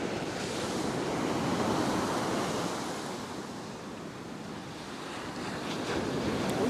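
Ocean surf breaking as white water on a beach, a steady roaring wash of waves with wind buffeting the microphone, rising and falling slightly in loudness throughout.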